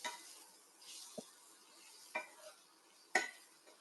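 Faint stirring of capsicum (Shimla mirchi) bhaji in a pan, soft sizzling under three or four quick scraping clinks of a spoon against the pan, close by and quiet.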